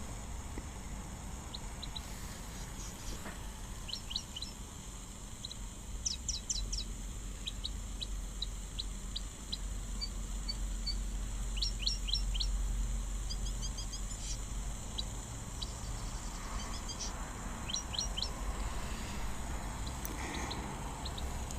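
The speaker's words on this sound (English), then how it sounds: "I'm going to play the call for you here of these little red-billed firefinches" Recorded calls of red-billed firefinches play as short, faint, high chirps and trills in scattered bursts, repeating over a steady outdoor background hiss at a waterhole.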